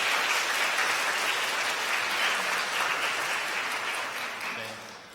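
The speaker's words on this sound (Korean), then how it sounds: "여러분 환영의 박수 부탁드립니다" Church congregation applauding to welcome a returning member during a Sunday worship service, a steady wash of clapping from many hands holding strong for about four seconds before easing off toward the end.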